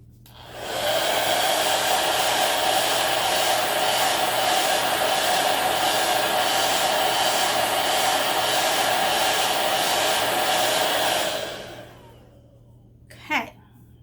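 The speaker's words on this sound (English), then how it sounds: "So now I want to dry that again because we are going to be layering it over with the letters." A hair dryer runs steadily for about ten seconds while drying a patriotic craft project, a loud, close, even whoosh that starts abruptly and winds down, followed by a brief knock.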